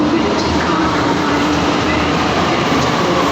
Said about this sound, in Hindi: मैं इसलिए चुप हो गई क्योंकि मेट्रो आ रही थी